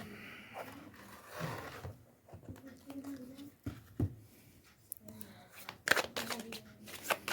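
Tarot cards shuffled by hand, a run of quick riffling, flicking and tapping sounds at close range with some irregular bursts, while a voice talks over them.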